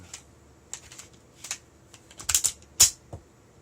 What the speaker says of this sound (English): recoil rod assembly, slight depression, seats into the rounded cut, slide back onto the frame